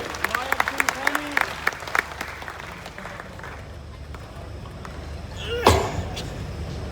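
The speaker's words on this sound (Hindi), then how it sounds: "जोरदार तालियां इनके लिए" Audience applause at a natural farming conference in Hisar, with a voice speaking over the clapping near the start before it settles into a steady wash of claps.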